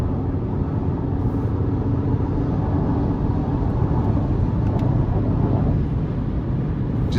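A 2023 Chevrolet Colorado LT with the 2.7-litre turbocharged engine and 8-speed automatic pulls under light throttle, giving a steady low rumble and road roar from inside the cab with no talk.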